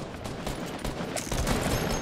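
Rapid video game gunfire from a pistol-type weapon in a Fortnite-style match, a dense, steady rattle of shots running continuously throughout at close range.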